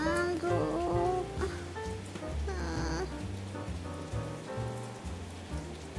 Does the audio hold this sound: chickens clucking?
no